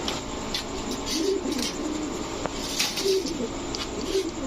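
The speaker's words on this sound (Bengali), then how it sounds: "এই হচ্ছে রাজশাহী গিরিবাজ নর" A male Rajshahi Giribaz pigeon gives soft, low, repeated coos over a steady background hum, the calls rising and falling in short bursts.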